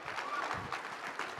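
Audience applause during an on-stage business talk, steady broadband clapping filling the short moment at an even level with no voices.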